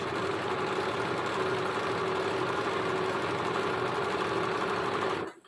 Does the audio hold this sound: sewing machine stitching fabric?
yes